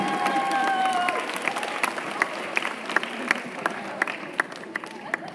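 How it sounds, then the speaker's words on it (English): Students applaud and cheer at a school solar eclipse assembly, a steady wash of clapping with sharp individual claps poking out as it gradually thins, and a brief whistle near the start. "Give him a big round of applause."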